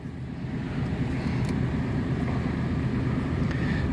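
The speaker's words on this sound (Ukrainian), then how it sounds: "зараз включаємо задню передачу" A Mercedes semi-trailer truck idling while shifted into reverse, a steady low diesel rumble heard from the cab, continuous and fairly loud with no talk over it.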